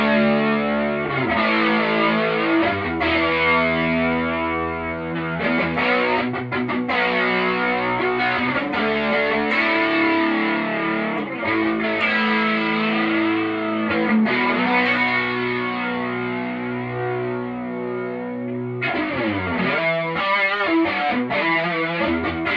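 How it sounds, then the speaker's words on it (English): Electric guitar from an Xotic XS-4 played through an EWS Fuzzy Drive and a modded Arion Chorus Vibe, thick distorted chords and sustained notes with a warbling chorus shimmer, steady and loud throughout with no talk. "I'm going to kick on the EWS fuzzy drive for that."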